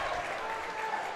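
A high school basketball crowd at Ellwood City vs. Beaver Falls claps and cheers in a dense, steady burst of applause filling the gym.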